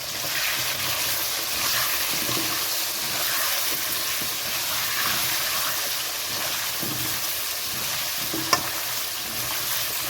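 Potatoes frying in a pan with salt and turmeric give a steady, close sizzle and hiss that runs unbroken throughout, with faint stirring scrapes and one brief sharp clink near the end.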